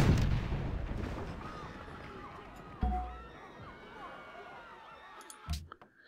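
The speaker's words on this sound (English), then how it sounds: "let's continue shooting with this cannon" A cannon in Civilization V fires a single deep boom, followed by a later thud and a rising crowd-like murmur of game effects, with talking early on.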